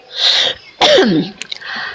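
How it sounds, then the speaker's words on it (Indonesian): A woman gives a single hard, throaty cough with a harsh breathy burst, close and loud, followed by a few smaller breathy sounds. "Bentar ibu batuk dulu bu, batuk kelucuan dulu ya"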